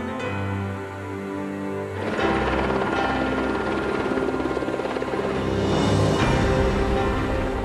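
Helicopter capable of lifting 2.5 tons, working near the ship KODIMA; a loud, steady rotor and engine roar that swells after a quieter start and holds throughout, with no talk.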